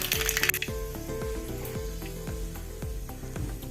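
A teaspoon of mustard seeds splutters in two tablespoons of hot oil in an uruli on a gas stove, a steady sizzle broken by many sharp crackling pops close by.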